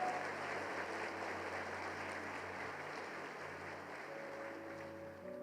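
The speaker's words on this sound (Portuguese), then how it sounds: "Vamos aplaudir a Ele" A church congregation applauds in a sustained, even wash of clapping, with held keyboard tones sounding underneath and no speech.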